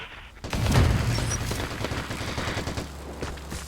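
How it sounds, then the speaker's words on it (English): Gunfire in the online shooter Vigor, a burst of rapid shots with a heavy boom up front, then a rattling fusillade trailing off at moderate distance. "And that's the sound of somebody shooting at somebody else."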